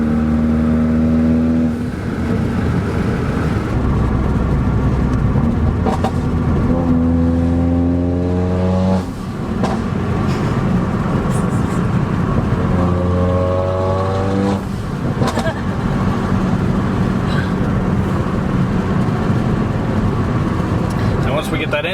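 Mercedes CLA45 AMG with a straight-piped exhaust revs repeatedly, its engine note climbing and falling in several pulls over a steady idle, while someone talks over it.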